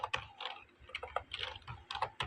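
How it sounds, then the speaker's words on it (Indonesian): Quick, light keystrokes on a computer keyboard while typing in Microsoft Word, an irregular close patter of clicks over a quiet background with no voices. "Saya misalkan akan ketikkan nama channel saya"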